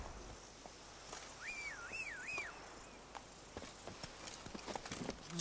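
Hooves of Roach, a horse in a video game, clip-clop in a loose, uneven rhythm at moderate distance, with a brief wavering whistled tone near the start.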